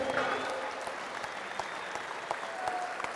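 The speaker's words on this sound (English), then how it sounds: "please, a huge round of applause for Terry Hollands of Dartford, who came second" A strongman competition crowd applauds Terry Hollands of Dartford, sustained clapping and cheering heard at a moderate distance, with a voice talking faintly over it.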